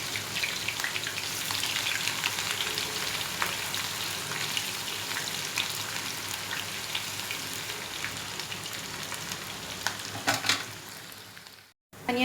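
Chopped onion frying in hot oil in a frying pan, a steady dense sizzle with crackling pops running evenly throughout, close and fairly loud, briefly cut off near the end.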